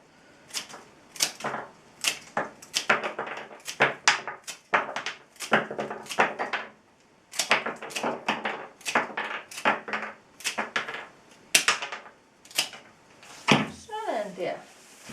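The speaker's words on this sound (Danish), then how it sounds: "Og så klipper vi her på noget. Der klipper vi skrå" Flower stems are snipped at an angle while assembling a funeral bouquet, a rapid series of crisp close clipping and rustling snaps in irregular bursts, with a person talking at points.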